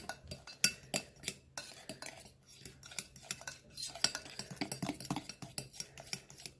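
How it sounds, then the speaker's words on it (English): Sugar being stirred in a bowl for a pear caramel sauce, a spoon clinking and scraping against the sides in quick, uneven bursts, close and fairly quiet with no talking. "I'll just give that a good stir"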